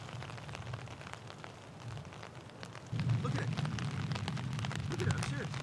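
Rain patters steadily on tarps at a campsite as a soft, constant hiss of drops that grows louder halfway through, while a person speaks briefly.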